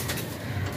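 Breeder racing pigeons coo softly in a low, throaty murmur, close by and steady, in a short burst with no talking.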